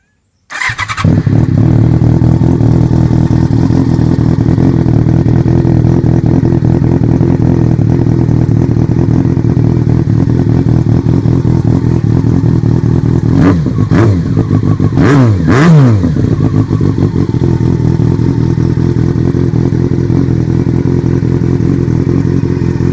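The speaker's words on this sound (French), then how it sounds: "je vais vous la démarrer pour vous faire écouter la double sortie" Yamaha FZ6 S1 motorcycle with a dual exhaust starts and idles loudly and steadily up close, then takes a few sharp throttle blips near the middle before settling back to idle.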